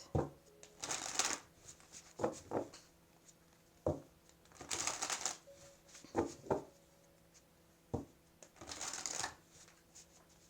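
Oracle cards from an Animal Spirit deck being shuffled by hand in repeated bursts of riffling and sliding, close and clear, separated by short pauses with soft taps, with no talking.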